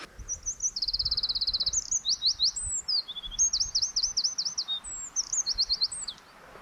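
Songbird singing on a hike at Black Rocks, Cromford, in Derbyshire, clear and fairly close. Phrases of rapid repeated trilled notes alternate with short whistled slurs, with brief pauses between bursts.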